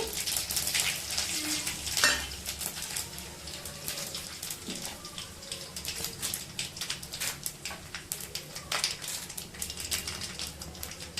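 Tempering seeds and chilies for tamarind rice (pulihora) spatter and crackle in hot oil, a busy stream of sharp pops and sizzling that continues throughout, with a louder burst early on.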